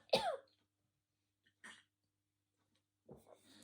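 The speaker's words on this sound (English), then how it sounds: "I need to cough." Three short separate throat-clearing coughs, close and fairly quiet, spaced by silent pauses, the first strongest and the last a rougher rasp.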